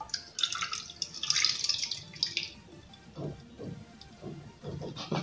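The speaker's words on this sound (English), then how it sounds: "I'll just remove the water." Water drains off soaked lentils, a bright splashing trickle for a couple of seconds, then softer drips and wet patters, close and alone without talk.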